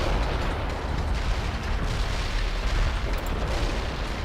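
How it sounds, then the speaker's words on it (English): Artillery barrage explosions in the video game World in Conflict: dense, continuous rumbling booms that overlap into a steady loud roar with no pauses, and no voices. "Artillery barrage in for full effect."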